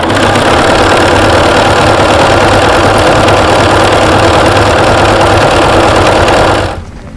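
A sewing machine runs a zigzag stitch over a pipe cleaner on a fabric face mask, giving a loud, steady mechanical whir with rapid rhythmic ticking that continues unbroken before cutting off abruptly near the end.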